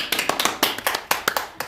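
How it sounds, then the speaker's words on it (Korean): A few members of a small church congregation clap during a Wednesday service, a brief burst of separate, uneven hand claps, close and fairly loud, with no voices over them. "박수!"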